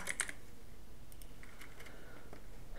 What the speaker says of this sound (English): type here task manager and open it